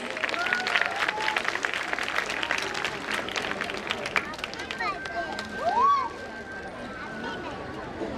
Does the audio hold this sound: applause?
yes